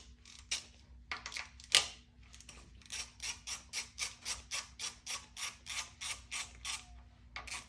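A ratchet clicks rapidly while loosening timing chain bolts on a Honda K24 engine, a close, dry series of evenly spaced ratcheting strokes after a few scattered clanks, with a faint steady hum underneath.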